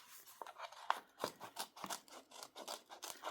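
Scissors snipping through paper to cut out pieces for an art journal page, a steady run of close, crisp cuts and paper rustles.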